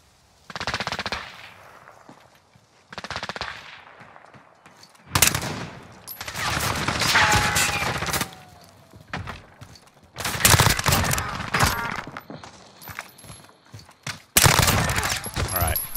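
Bursts of automatic gunfire from a newly added gun in a first-person video game, several rapid volleys separated by short pauses, loud and close, with some ambient game sounds between bursts.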